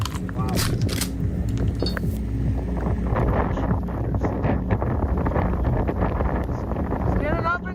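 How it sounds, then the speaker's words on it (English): A tornado roars as a loud, steady rush of wind battering the microphone outdoors, with people talking excitedly over the continuous roar. "Big tornado right there."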